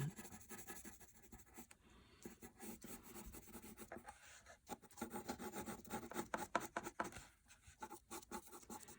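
A pencil shades light grays on paper, with soft close rasping strokes that come in uneven bursts of rubbing and scratching and short pauses between them.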